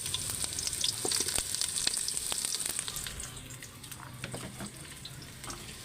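Onion and ginger fry in a pan with a soft, fairly faint sizzle and scattered stirring clicks, a watery hiss running beneath, quieter toward the end and free of talk.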